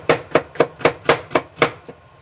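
A knife chops onions thin on a board in a condo kitchen: seven crisp, evenly spaced cuts land close and loud, with no voices.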